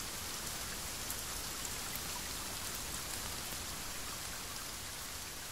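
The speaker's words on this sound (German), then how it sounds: "Boah, jetzt regnet es aber richtig stark hier." Heavy rain in the survival video game The Forest, a dense, steady hiss of downpour and drops drumming on surfaces, loud and unbroken with no voices.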